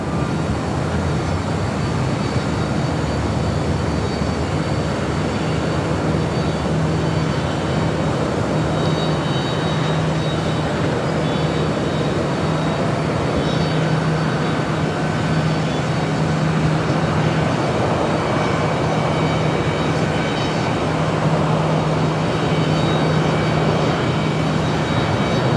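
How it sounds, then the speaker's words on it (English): A Boeing 787 Dreamliner airliner rolls down runway 25 right at Los Angeles, a long sustained engine roar with a steady low hum underneath, no voices. "Dreamliner now rolling down to 25 right"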